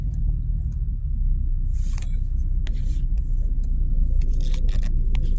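Congested traffic creeps along a skyway with a steady low engine rumble and road drone, broken by scattered scrapes, clicks and ticks close by.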